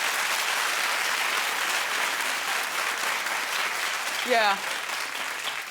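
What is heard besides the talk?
studio audience clapping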